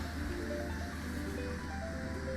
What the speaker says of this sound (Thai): เปิดให้วาล์วเนี่ยฟังเสียงวาล์ว